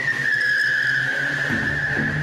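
Car tires skidding under hard braking, a sustained high squeal that runs loud and steady for about two seconds, with low rumbling underneath toward the end, used as a radio advertisement sound effect.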